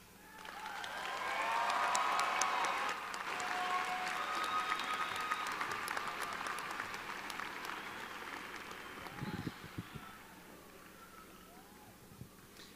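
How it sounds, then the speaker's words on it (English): Graduation audience at a high school ceremony applauds loudly and steadily, with a dense wash of clapping and some cheering that swells early, holds, then thins toward the end. "give yourselves a huge round of applause"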